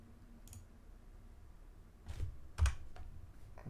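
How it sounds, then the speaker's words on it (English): Soft keystrokes on a computer keyboard, a few scattered taps followed by a short cluster of louder clicks, close and quiet with no talking. "we are typing and it's not changing"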